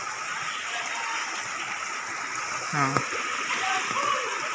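Strong floodwater rushes through Barangay San Pedro in Duero, Bohol, Philippines, a loud, steady, dense roar of flowing and splashing water, with a brief voice rising over it.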